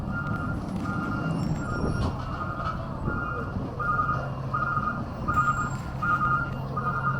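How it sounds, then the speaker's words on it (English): At a recycling center in Berkeley, California, trucks back up with a reversing alarm beeping in a regular, evenly spaced pattern over a low diesel engine rumble and outdoor yard noise. "Be on the lookout for trucks because there are coming in and out."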